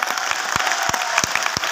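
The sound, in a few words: audience applauding loudly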